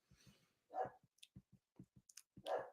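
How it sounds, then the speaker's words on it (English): A pet dog barking indoors, heard as a few short, muffled, fairly distant barks separated by quiet gaps, with faint clicking sounds in between. "Can you hear my dog?"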